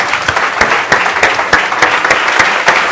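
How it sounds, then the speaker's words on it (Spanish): A church congregation bursts into applause during a sermon, steady dense clapping from many hands with a few sharper individual claps standing out, loud and close, no talk over it. "Denle un aplauso al Señor, hermano."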